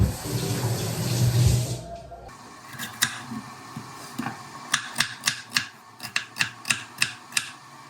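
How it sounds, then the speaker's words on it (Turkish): An onion is rinsed under a running kitchen tap, with a loud rush of water for about two seconds. Afterward comes a run of sharp, close clicks and knocks. "soğanımı yıkayayım"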